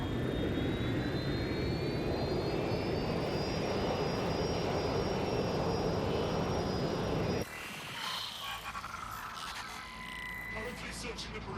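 A plane in Watch Dogs: Legion gives off a loud, steady jet-engine roar for several seconds, then cuts off abruptly to a quieter, busier scene.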